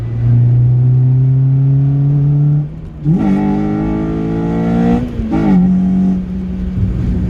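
A Honda Civic Type R Premier Edition with a VTEC engine and an induction kit idles loudly, then revs up hard twice with a throaty intake roar, dropping back to idle between the revs, close by.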